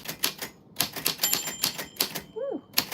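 A typewriter clatters with rapid, uneven keystrokes in short bursts, then its carriage bell rings once with a bright ding near the end.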